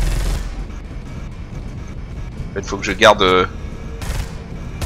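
Cannon fire in the video game Space Hulk: Deathwing: a loud burst of rapid, crackling shots that swells and fades, followed by another short blast, while someone talks in French over the game's low rumbling ambience.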